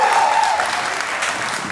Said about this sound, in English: they're clapping to keep their hands warm